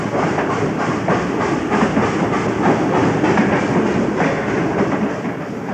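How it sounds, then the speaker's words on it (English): A Southern Pacific Daylight steam locomotive train pulls into a side track, wheels clacking over rail joints in a steady rhythm beneath a continuous loud, close rumble. "the Daylight, which here pulls into a side track to allow a special to pass"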